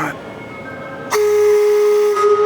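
A steam locomotive whistle sounds up close as its trigger is pulled, a loud steady tone that starts abruptly partway through and holds to the end, following a brief faint voice.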